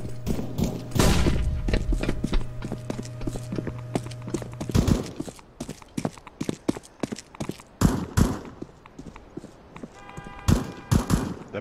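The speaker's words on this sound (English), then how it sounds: "Flashbang." A flashbang grenade detonates in the shooter game CS:GO, a sharp bang among a rapid run of gunshots and thuds that keep popping and clattering for several seconds.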